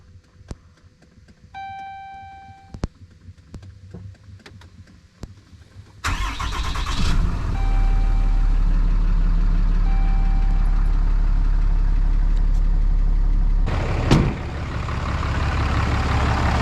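A truck's engine is cranked over after a few dashboard chimes, catches with a loud burst and settles into a steady, close idle, with a brief rev or knock partway through.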